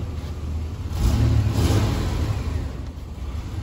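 A car engine revs up as the vehicle accelerates with its MAF sensor disconnected during a scan tool check, a steady mid-pitched rising drone with no talk.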